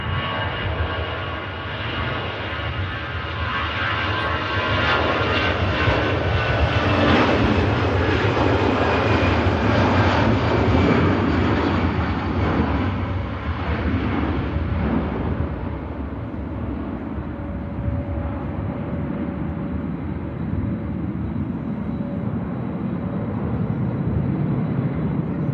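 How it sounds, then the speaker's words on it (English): An aircraft's engines roar at Manchester Airport, a loud sustained broadband rumble and whine that swells and then eases slightly as the plane passes, with no voices over it. "And here is the aircraft."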